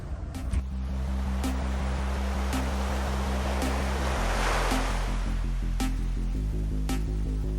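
Steady wash of ocean waves and wind at sea in the Pacific Ocean, with a low engine-like drone running underneath throughout.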